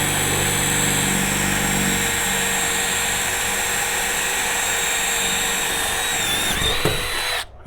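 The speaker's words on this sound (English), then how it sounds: "center pop the center, then just drill a hole the size of" A power drill bores out rivets on an MCI bus during a window installation, giving a loud, steady whine that holds for several seconds, shifts pitch near the end, then cuts off abruptly.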